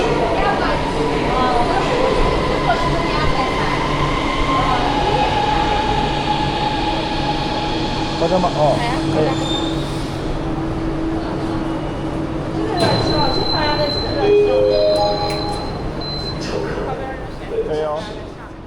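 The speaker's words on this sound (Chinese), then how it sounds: "坐上车才发现自己好久没坐过真正的地铁了" A Kunming subway train runs with a continuous rumble and whine, its pitch rising and falling as it moves, while brief conversation passes nearby in the carriage.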